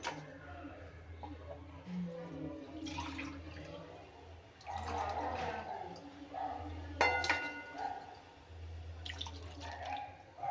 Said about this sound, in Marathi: तर आणखी पाणी घालून घेऊया